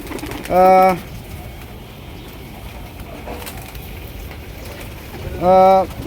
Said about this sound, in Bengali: এখানে আমার যথেষ্ট কবুতর আছে প্রায় আড়াইশো তিনশোর মতো কবুতর আছে আমাদের এখানে